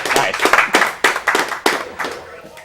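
One person claps steadily at a charity speedrun marathon, giving about eight sharp, evenly spaced claps close to the microphone while people talk.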